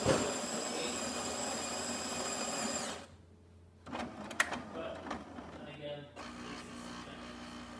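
A Jura coffee machine grinds beans with a loud whirring drone, then falls quieter before clicking and pumping sounds take over as espresso begins to brew.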